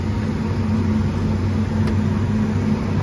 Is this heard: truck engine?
yes